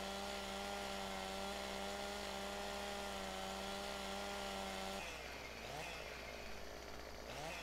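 A chainsaw in Farming Simulator 2015 cuts a tree, a loud sustained buzzing drone that cuts off abruptly partway through, leaving a rougher rustling and creaking.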